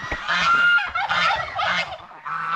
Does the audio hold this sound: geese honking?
yes